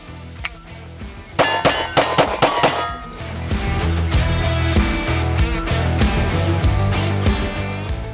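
Bullets strike steel plates at a shooting range, two shots per plate, giving a quick run of sharp metallic clangs that ring out loudly over a steady background rumble.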